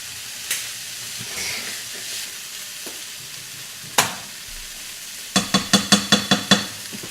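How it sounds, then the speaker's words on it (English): Venison for chili sizzles steadily as it browns in a pan, with a few clanks from stirring and a quick run of sharp metallic taps near the end. "the browning is going really, really well for our venison"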